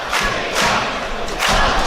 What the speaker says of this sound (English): Latvia is the rhythmic chant from the crowd